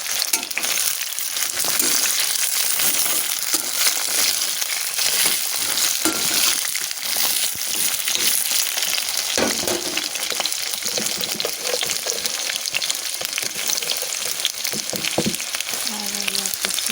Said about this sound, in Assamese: পাঁচফোৰণখিনি ধুনীয়াকৈ ফুটি উঠিছে, আৰু এতিয়া বগৰীখিনি দি দিছোঁ।